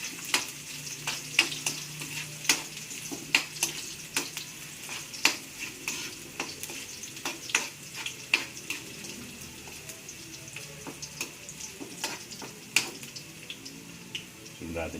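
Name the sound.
ginger sizzling and being stirred in a frying pan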